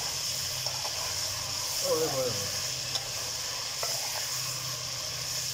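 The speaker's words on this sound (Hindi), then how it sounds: "इसको अच्छे तरीके से भी हमने भूनना है ताकि चिकन के अंदर से कच्चापन वो ख़त्म हो जाए" Chicken sautéing (bhuna) in a pan for chicken palak, a steady sizzle and hiss with a brief scrape of stirring near the middle, close and continuous.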